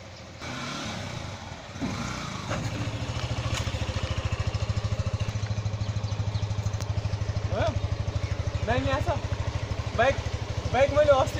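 A motorcycle engine runs steadily nearby with an even, pulsing putter, holding a fairly constant note throughout while a voice chatters briefly toward the end.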